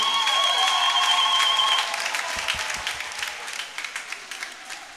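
A church congregation applauds at a Christmas night mass, dense sustained clapping that fills the space and then slowly thins and fades, with a faint voice briefly audible over it.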